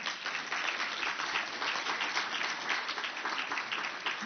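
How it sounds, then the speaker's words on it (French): Audience applause at the official opening of an event, a steady, dense wash of many hands clapping for several seconds at even loudness, slightly distant and with no voices over it. "je vous demande de vous applaudir, vous, pour être ici présents"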